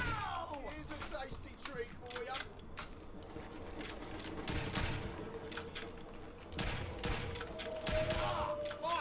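Rapid video game gunfire in a Friends vs Friends match, bursts of shots running throughout under a busy mix of game effects and voices, fairly faint overall.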